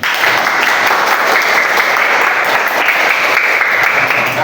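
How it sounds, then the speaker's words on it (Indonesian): Dense, steady applause from a classroom group during a lesson, a continuous loud wash of many hands clapping with faint voices underneath. "Tepuk tangan untuk kita semua hari ini."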